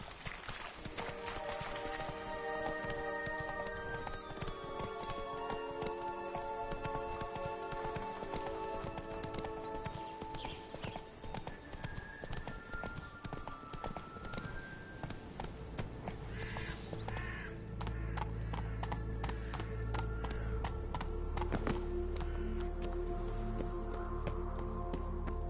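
Hoofbeats of Roach, Geralt's horse in The Witcher 3: Blood and Wine, clip-clop steadily through a continuous game soundscape with music and ambient rain-like texture, moderately loud and running throughout without speech.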